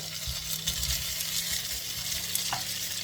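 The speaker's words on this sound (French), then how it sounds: "Hop, on verse les gnocchis dans la poêle." Gnocchi sizzle and fry steadily in a pan, a continuous close crackle with light stirring scrapes and no voices over it.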